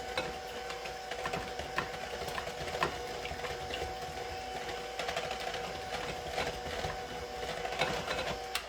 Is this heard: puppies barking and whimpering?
no